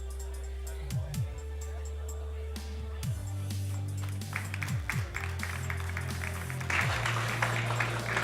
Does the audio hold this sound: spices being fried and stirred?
no